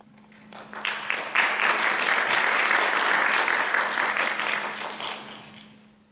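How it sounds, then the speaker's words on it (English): Audience at the 2016 ICET conference in Seoul applauds to welcome a speaker, a steady wash of many hands clapping that swells in, holds evenly, then tapers off, with a faint hum underneath. "I would like to welcome him with big applause."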